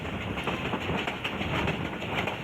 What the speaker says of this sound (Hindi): ट्रेन अपनी रफ्तार में आते हुए